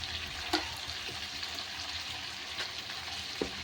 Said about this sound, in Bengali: এরপর আদা রসুন জিরে গুঁড়ো গোলকি পেস্ট মশলা। এবার আমি ভালো করে এসে ভেজে নেব।